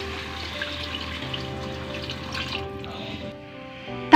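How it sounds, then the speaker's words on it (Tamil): Water poured into a pan of curry for mutton kola urundai kuzhambu, heard as a continuous close trickling splash that eases off near the end. "தண்ணி சேர்த்து இதை நல்லா மிக்ஸ் பண்ணி விட்டுருங்க."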